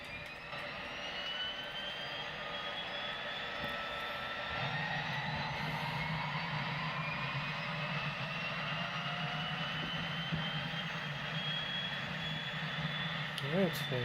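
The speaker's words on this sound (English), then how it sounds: "Engine igniter, start the left engine." In the X-Plane 10 flight simulator, an aircraft's left engine spools up, a steady whining turbine tone with rising pitch and a low rumble that thickens midway, continuing without pause.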